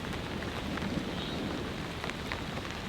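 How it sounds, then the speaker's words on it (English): Rain from Hurricane Debby falls steadily at an off-grid cabin, a moderate, even hiss of drops on surfaces with a faint low rumble of thunder far off in the background. "As it stands, still raining."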